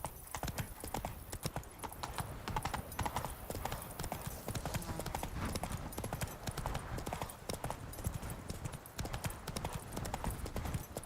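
Steady, rapid hoofbeats from the horse Roach galloping in Witcher 3's Blood and Wine, continuous and close throughout, with faint talk mixed underneath.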